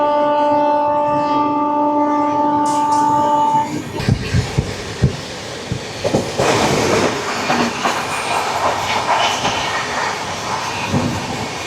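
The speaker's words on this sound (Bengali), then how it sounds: "ছেড়ে দিল আমাদের ট্রেন ভদ্রক স্টেশন" Howrah-Puri Shatabdi Express pulling out of Bhadrak station: a loud, sustained horn blares for a few seconds, then gives way to a steady close rumble of rolling carriages with scattered wheel clanks and rattles.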